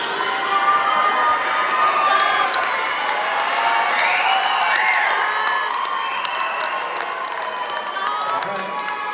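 Elementary school fifth grade promotion ceremony crowd of children cheering, shouting and whooping with some applause, a loud continuous roar with an adult voice talking underneath.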